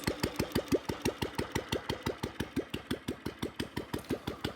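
An old Royal Enfield Bullet motorcycle engine keeps idling after water is poured on it, a steady, even thumping beat of about five pulses per second, close and alone.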